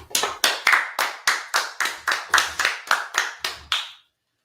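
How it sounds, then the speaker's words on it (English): About a dozen sharp hand claps in a steady, slightly accelerating rhythm at a religious gathering, close and loud with no talking, ending abruptly. "Clap it up."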